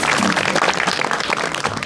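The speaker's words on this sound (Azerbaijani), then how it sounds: "alqışlarınızla." Audience applause at a comedy show, a dense burst of many hands clapping steadily and fairly close for the whole short stretch.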